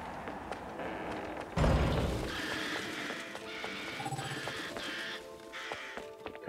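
A red bird in the video game Bayonetta caws in a string of harsh, repeated calls after a heavy thud, with game music and effects underneath.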